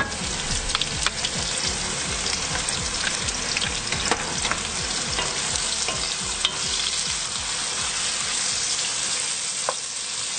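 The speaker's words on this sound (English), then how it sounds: "Let it simmer together." Onion and garlic cook in a pot, a steady close sizzle broken by frequent stirring and scraping sounds, with no talking.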